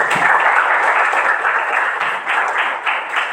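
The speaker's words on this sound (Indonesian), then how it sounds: "Oke, beri aplaus dulu untuk Fendi." Classroom students clap for a classmate named Fendi, a steady dense applause from a group nearby lasting several seconds with little talk.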